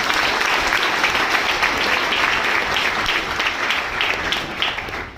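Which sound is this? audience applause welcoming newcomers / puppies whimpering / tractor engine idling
audience applause welcoming newcomers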